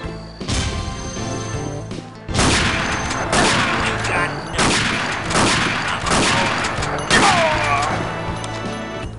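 Gunfire in the Unreal Tournament video game: loud, dense bursts of rapid shots and booms crowd together across the clip, with brief pauses between volleys and no talk.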